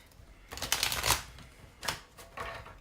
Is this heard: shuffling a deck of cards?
yes